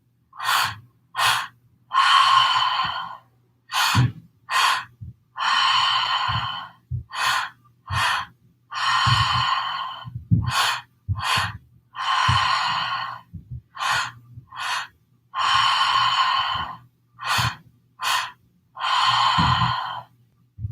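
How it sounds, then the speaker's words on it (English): Slow, deep breaths repeat for about twenty seconds, each long airy inhale followed by a sighing exhale, close and steady with brief pauses between. "Keep breathing."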